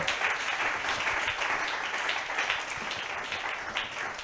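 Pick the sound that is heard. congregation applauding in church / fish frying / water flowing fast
congregation applauding in church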